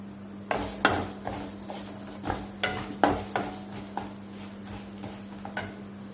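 Urad dal and coriander seeds being stirred in a pan for a dry coconut spice powder, with a utensil scraping and clinking against the metal in an irregular rhythm over a steady low hum, close and moderately loud.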